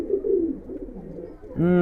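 Pigeons coo in a loft holding about a hundred birds, a soft low cooing at first, then a louder, nearer coo at the end.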